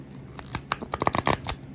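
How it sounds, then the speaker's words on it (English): A deck of thin-paper tarot cards being riffle-shuffled, a quick run of crisp fluttering snaps building to a dense burst, close up with no talking. "The paper is pretty thin, but it shuffles well."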